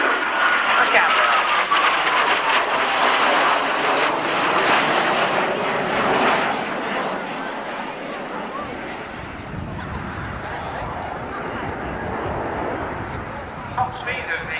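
Turbojet aircraft with engines of 7,500 pounds thrust each flying overhead, a steady loud broad roar that lingers throughout and eases slightly toward the end, with a narrator talking over it.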